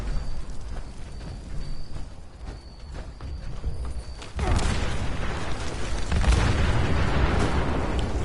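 A car blows up in the Fallout 76 wasteland, a sudden loud broadband blast midway that gives way to a sustained roaring, crackling rumble of fire and debris over the game's ambient background.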